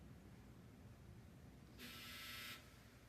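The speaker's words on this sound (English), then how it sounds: "That was a dryer buzzer." A dryer buzzer sounds once, a flat, harsh buzz lasting under a second in an otherwise quiet room.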